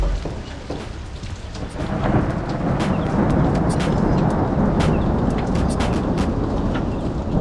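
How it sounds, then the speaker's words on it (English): Heavy rain pours steadily on a riverside road in Turkey in January, loud and continuous, with thunder rumbling underneath and sharp drops striking nearby surfaces. "We have rain that has stopped play."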